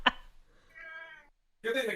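A house cat gives two meows close by: a thin, drawn-out one followed after a short pause by a louder, fuller cry. A sharp click comes just before them.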